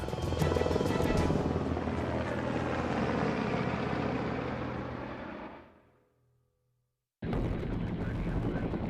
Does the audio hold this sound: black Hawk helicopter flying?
yes